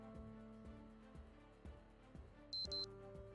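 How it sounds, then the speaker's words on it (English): A digital wristwatch alarm beeps in the Project Zomboid video game, two short bursts of high electronic beeps near the end over low droning game music. "I guess the alarm was set on that digital watch I picked up off a zombie earlier"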